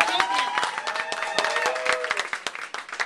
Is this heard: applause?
yes